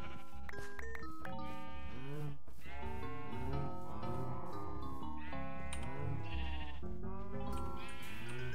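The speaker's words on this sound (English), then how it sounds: "Oh no, the sheep!" Sheep in Minecraft bleat again and again, a run of wavering, nasal calls that stay close and fairly loud throughout, with a few overlapping.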